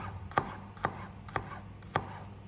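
Knife cutting garlic into thin slices on a chopping board, four evenly spaced crisp taps close by against a quiet background.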